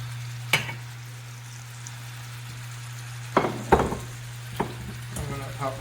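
Bacon-wrapped stuffed chicken breasts frying in oil in a pan, a steady low sizzle broken by a few sharp clinks and taps of utensils against the pan.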